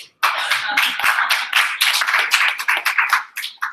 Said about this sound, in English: And some just clap their hands and paws.